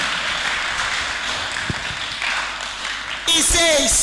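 A church congregation clapping for Jesus: soft, scattered clapping from the crowd for about three seconds, then a loud voice begins speaking close up over it.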